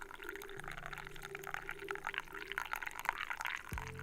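Coffee poured steadily into a cup, a continuous gurgling liquid stream rising in pitch as it fills, heard close with a low background hum.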